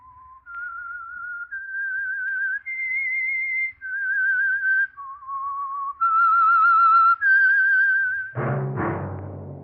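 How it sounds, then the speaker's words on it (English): A lone whistler carries the slow, clear theme signal of The Whistler radio program, a sequence of sustained, sliding pitched notes, loud and close, ending in a low, dense orchestral swell. "That whistle is your signal for the Signal Oil Program, The Whistler."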